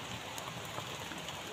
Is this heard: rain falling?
yes